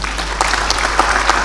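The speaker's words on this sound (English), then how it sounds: "I ask that you give them another round of applause." An audience at an African Union chairperson candidates' debate applauds the candidates, a loud, brief spell of dense clapping over a steady low hum.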